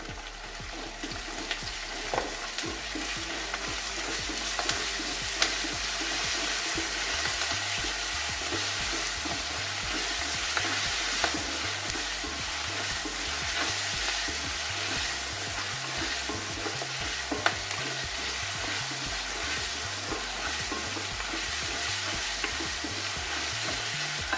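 Onions fry with ginger-garlic paste in a pan for chilli chicken, giving a steady close sizzle with occasional stirring scrapes over a low humming background, and no talk throughout.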